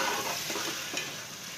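Green chillies and onion fry in oil with salt until lightly browned for an aloo methi sabzi, giving a dense, continuous sizzle with a few stirring scrapes, close and fairly loud, with no talking.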